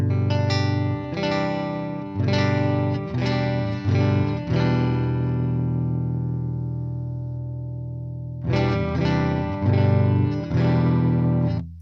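An electric guitar run through a TONEX amp model with mild breakup plays a few strummed chords with distorted edges, then lets one ring and decay before more chords strike, close and full.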